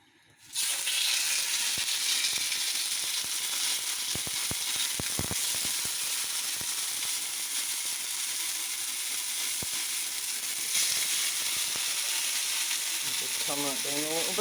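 Venison searing in a very hot pan with a tiny bit of oil, giving a loud, steady sizzle that runs almost the whole time, with a few clicks and brief utensil sounds over it.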